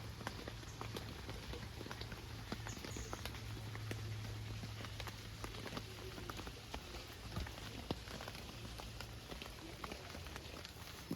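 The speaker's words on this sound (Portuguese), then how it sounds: "eu vou fazendo alguns takes dessa chuva aqui pra vocês" Steady rain patters and drums on surfaces at a lakeside campsite, a dense continuous hiss with scattered close drips and taps throughout, no voices.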